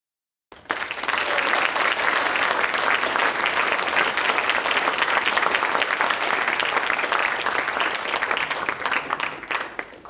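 An audience applauds speaker Matt Brown after his academic talk, a dense and sustained burst of clapping that starts abruptly and holds steady at full strength for about nine seconds before easing off at the end.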